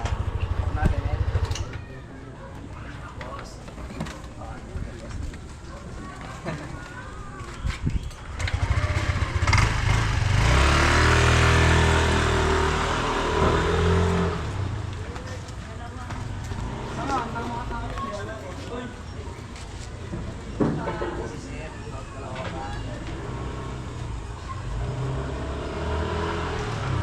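A motorcycle with a fault is ridden on a road test, its engine revving and swelling loud at mid-clip before settling to a rough idle, with people talking throughout.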